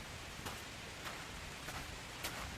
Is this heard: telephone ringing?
no